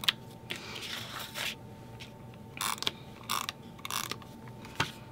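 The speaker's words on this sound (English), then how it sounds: "I'm going to grab my permanent adhesive and just go ahead and add adhesive every couple inches or so." Permanent adhesive runner tape being dispensed onto paper while making a scrapbook page, a series of short, crisp clicking and ratcheting bursts spaced irregularly over a quiet room background.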